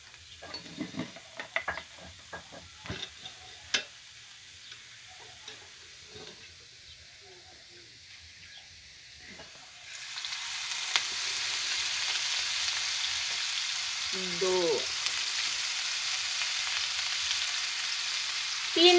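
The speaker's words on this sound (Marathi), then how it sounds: "आता कांदा मी चांगला भाजून घेते बघा." Chopped onion fries in about three spoonfuls of oil in a village kitchen pan. A few faint scrapes and clicks come first, then a louder, steady sizzle takes over for the second half, with no voice.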